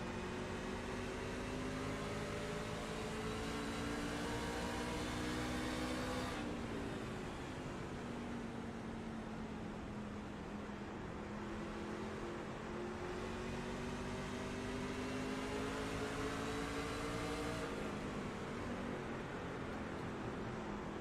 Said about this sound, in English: If you're listening to this with headphones on, you can hear what the trucks are doing.